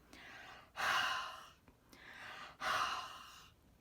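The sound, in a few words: breathing on a rubber stamp to re-moisten ink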